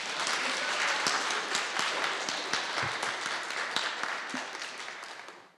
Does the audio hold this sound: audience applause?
yes